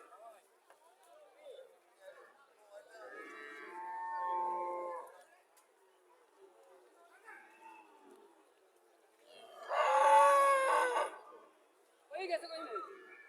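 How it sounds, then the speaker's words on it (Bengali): A Friesian dairy cow on a farm in Cumilla gives two drawn-out moos, a softer one and then a louder, nearer one, among quiet stretches with faint talk nearby. "এখানে আরো একটা গাভী দেখা যাচ্ছে"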